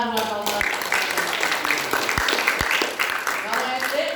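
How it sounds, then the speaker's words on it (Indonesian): A small group of students in a sixth-grade classroom clap for a classmate, brief uneven applause mixed with chatter and a few sharp knocks. "Tepuk tangan buat Noah"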